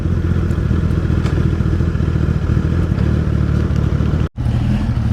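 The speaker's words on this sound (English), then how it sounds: "back on the motorcycle" A Suzuki Hayabusa motorcycle on the road gives a steady, loud engine drone throughout, with a brief sharp dropout near the end before the rumble resumes.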